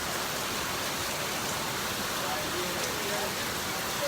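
Steady rain pours outdoors in Ghana, filling buckets set out in the open, a constant even hiss with no breaks over the whole stretch.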